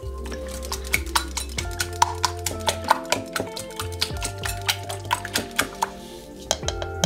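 A catfish boilie mixture with garlic being stirred in a bowl, a spoon or utensil scraping and clinking against the sides in a steady rhythmic series of knocks, close and alone.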